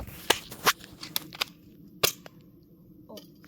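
A toy gun fires in sharp close snaps, several quick pops in the first second and a half, then a single crack, with small clicks and rustles between shots.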